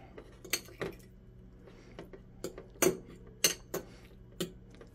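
A knife clinks against a plate while cutting boiled eggs into bite-sized pieces, a series of sharp, close ticks and taps spaced irregularly across a quiet background.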